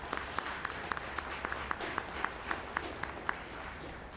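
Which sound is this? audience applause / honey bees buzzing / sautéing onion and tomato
audience applause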